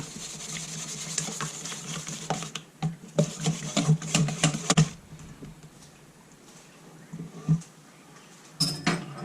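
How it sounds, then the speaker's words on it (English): Whisk rattling against a bowl while mixing a batter for sweet and sour pork, in quick irregular bursts of clinking strokes separated by short pauses, close and fairly loud. "Alright, I'll give that a bit of a whisk up."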